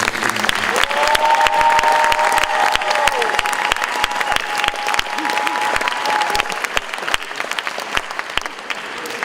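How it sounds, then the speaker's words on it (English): An audience at the Ritenour Hall of Fame ceremony gives its honorees a long, sustained round of applause, dense clapping from a large crowd filling the room, with a faint tone ringing above it and some voices mixed in. "How about one more hand for all of our honorees?"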